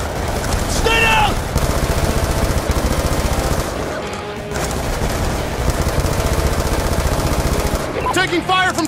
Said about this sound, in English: Taking fire from snipers on the overpass!